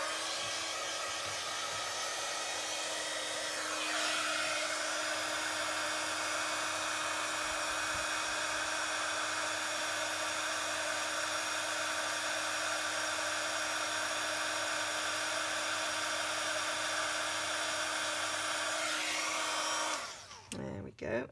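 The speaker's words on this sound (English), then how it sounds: "we'll just blast that with some heat. So it will get a little bit noisy" A heat embossing gun blows hot air in a loud, steady whirring roar close by, running without a break for about twenty seconds before it cuts off.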